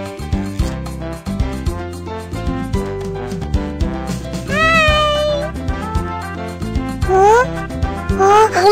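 A cartoon kitten in the BabyBus Baby Panda's Magic Drawing game meows, with sliding, high-pitched meows rising over a loud, busy musical backing.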